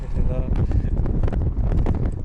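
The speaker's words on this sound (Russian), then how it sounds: "Ох, сегодня ветрище" Strong wind on a road trip between Russia and Kazakhstan buffets the microphone with continuous loud, rough rumbling and gusty roar. People talk underneath it.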